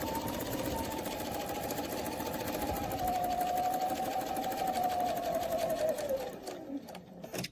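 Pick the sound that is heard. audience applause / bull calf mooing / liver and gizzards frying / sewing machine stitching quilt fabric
sewing machine stitching quilt fabric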